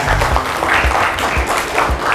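Students applaud in a classroom, a loud and close burst of many hands clapping in a fairly steady rhythm for a couple of seconds.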